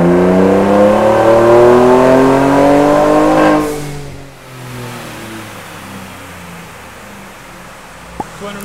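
Car engine at open throttle in 6th gear on a dyno, rising loud revving whine with climbing harmonics for several seconds, then cutting off to a lower idle hum.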